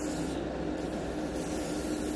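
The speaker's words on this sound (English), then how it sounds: "I'm going spraying, slowly going up, and pushing my trigger back in the position" A hobby airbrush sprays paint in a steady, continuous hiss of compressed air, close and even throughout with no talking.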